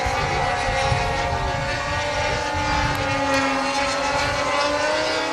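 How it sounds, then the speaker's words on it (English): R/C model airplanes race laps at the 2009 SCCMAS airshow, their small engines whining continuously, with pitch sliding as they pass by at a distance. "Our leader's lapping another airplane."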